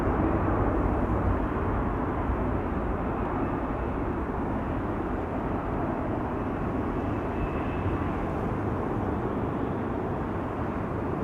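A Singapore Airlines airliner takes off from Amsterdam Schiphol, its steady engine rumble heard from a distance, even and unbroken.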